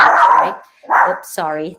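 A dog barks close by in a home office, with a couple of short sharp barks overlapping a woman's speech as she briefly apologizes.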